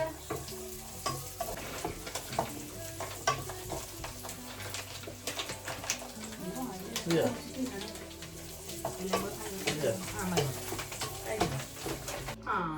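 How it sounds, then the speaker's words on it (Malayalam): Cashews and raisins fry in ghee for chicken biryani, a steady close sizzle with frequent scraping strokes of a spoon stirring in the pan. "കാഷ്യൂനട്ടൊന്ന് മൂത്ത് ഒരു പരിവാകുമ്പോൾ മുന്തിരി ഇട്ടു."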